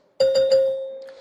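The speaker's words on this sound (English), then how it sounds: "a bell will sound like this" A single debate timing bell at a televised Republican primary presidential debate, ringing loud and close as one clear tone with a few quick repeated strikes, then decaying over about a second.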